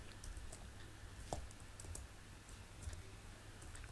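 Soft, distant computer keyboard typing in a quiet room, a faint run of light taps and clicks with no voices.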